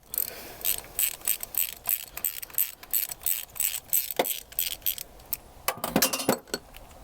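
A metal socket extension drops and clinks against engine parts during spark plug work on a 1.8 Toyota Corolla, heard as a series of sharp metallic taps and rattles spread through the clip, close and fairly loud, with no talking.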